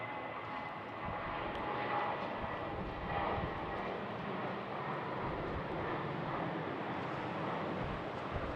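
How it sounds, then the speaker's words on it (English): A KLM Boeing 737 takes off in winter conditions at Schiphol, a steady, distant jet engine roar with broadband rumble and wind noise that swells slightly, with no voices. "enjoy this KLM 737 takeoff"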